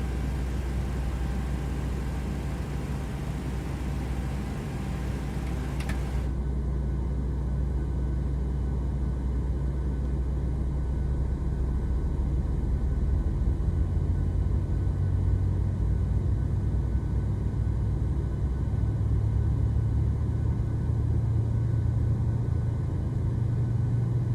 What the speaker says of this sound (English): sounds like we have a good start of engine number